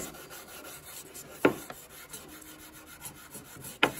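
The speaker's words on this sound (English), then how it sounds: "Getting sanded down here." A wooden sanding block is rubbed over the wood of an 1867 Chickering piano during restoration, producing quiet, soft rasping strokes with two sharper scrapes standing out, close and without talk.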